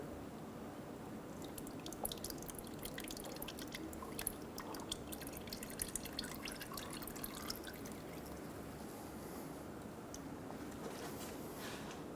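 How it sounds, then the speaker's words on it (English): Transmission fluid drips faintly from the filter of a 2000-2007 Ford Focus as the transmission pan is lowered, with a scatter of small, irregular drips over quiet background noise. "As you do this, some fluid should drain through the filter."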